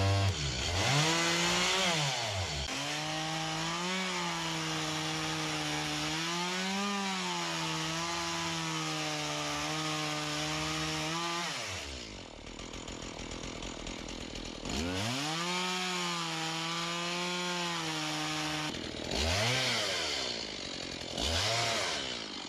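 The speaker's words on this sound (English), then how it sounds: "I was just thinking maybe I just should take the chainsaw." A chainsaw cuts through wood stringers and floor beams, its engine loud and close with rising and falling revving as the blade bites, briefly easing off mid-cut before surging again.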